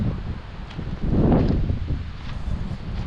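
Wind gusts buffet the microphone, swelling into a louder rush in the middle before easing to a steady outdoor blow.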